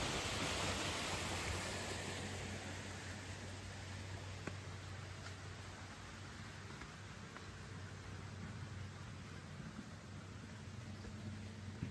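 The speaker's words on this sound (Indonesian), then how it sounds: "Air terjun ini." A waterfall by a clear river at a tourist park in Kampung Sinaron, Tongod, Sabah, gives a faint, steady hiss of falling water that holds evenly throughout with no voices.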